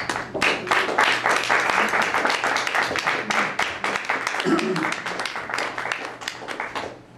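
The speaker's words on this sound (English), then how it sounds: "How about a round of applause?" An audience at a book party for a poetry and stories collection gives a sustained round of applause for a choreographer, dense clapping filling the room for several seconds, with brief murmuring under it, before tapering off.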